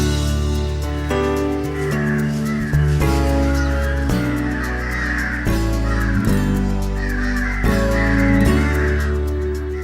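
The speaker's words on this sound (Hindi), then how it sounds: "प्रकाश के घर की छत पर रोजाना सैकड़ों कौवे आते हैं" Crows caw repeatedly on a house rooftop, many harsh calls overlapping in an irregular rhythm, close and loud over a low steady hum.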